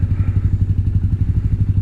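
A scooter engine idles steadily while warming up, a close, even low throb with a fast regular pulse and no talking.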